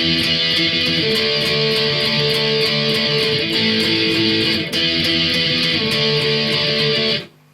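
Distorted electric guitar plays a chorus riff, steady strummed power chords with a driving even rhythm, loud and close, running alone for several seconds before cutting off sharply at the end.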